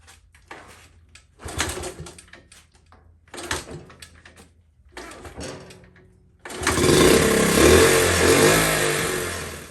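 A Honda CT70 motorcycle is kicked over several times with clunking strokes and brief sputters, then the small engine fires and settles into a loud, steady idle up close.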